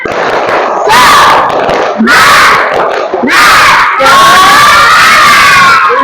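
A school class in a coding lesson does a 'tepuk semangat' spirit cheer, with children shouting and clapping together in several loud, rhythmic bursts, each separated by a brief pause.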